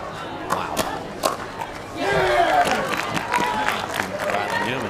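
Crowd at a pickleball match responds with a swelling roar of cheering that rises midway and carries on, preceded by a few sharp paddle or court sounds, with a commentator's voice over it.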